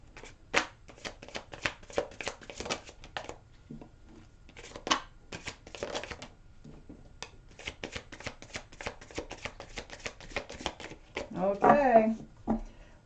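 Tarot cards being shuffled, with repeated crisp riffling and slapping bursts up close in uneven rhythm and short pauses between, and a voice speaking briefly near the end.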